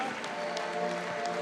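A basketball crowd reacts to a missed dunk at the FIBA 3x3 World Tour finals in Bucharest, a steady wash of cheering and scattered applause from a large outdoor audience.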